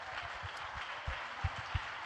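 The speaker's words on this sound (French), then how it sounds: "Olivier Ginon, évidemment applaudi par une grande partie de nos chefs d'entreprise" An audience of business leaders applauds a speaker at a debate, a soft, distant patter of clapping with a few louder, closer claps standing out near the end.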